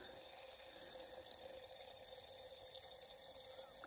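Quiet, steady fizzing hiss of tiny bubbles rising in a glass holding dancing corn, a continuous soft sizzle with faint crackles throughout and no voices.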